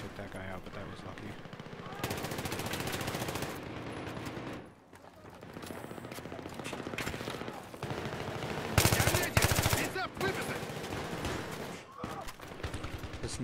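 Gunfire from the video game Battlefield 3 during a close quarters team deathmatch: loud bursts of automatic fire, with brief pauses and a voice talking over the shooting.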